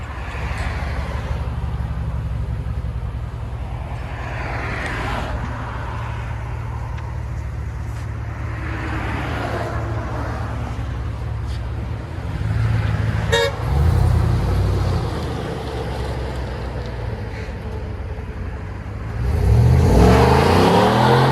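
A GMC Sierra Denali with a 6.2L V8 and a Borla ATAK exhaust gives a deep, close rumble that swells briefly midway, then a louder rev rises at the end.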